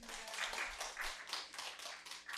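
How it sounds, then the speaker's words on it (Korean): Applause greets guests at a district council committee session in Gwangju, with a steady patter of clapping from a small audience in the chamber throughout. "크게 박수로 맞이해 주시면 감사드리겠습니다"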